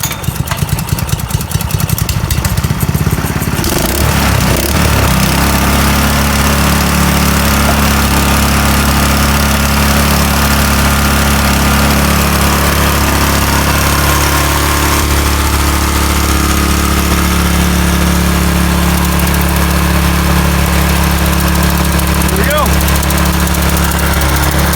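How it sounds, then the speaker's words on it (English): A paint sprayer pump, just repaired after being clogged, starts up and runs with a loud, steady droning hum that settles into a constant mechanical tone after a brief noisy start, close by. "Okay, the pump's on."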